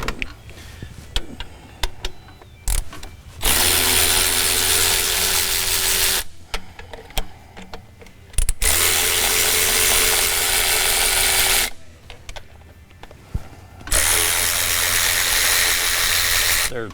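A ratchet removes 10 mm bolts from the air intake horn of a Cummins diesel engine, running in three loud, sustained buzzing bursts separated by quieter clicking and handling noises, close up.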